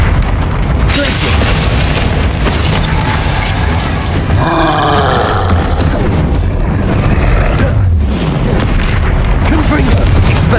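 Confringo fire-blast spells in the game Hogwarts Legacy, loud booming explosions and rumbling bursts filling the whole stretch, with spell-casting shouts layered over the din.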